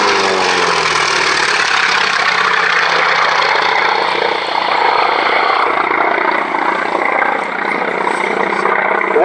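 A Grumman Martlet/Wildcat fighter's piston engine and propeller roar steadily and loudly at an airshow, a dense continuous drone with no breaks.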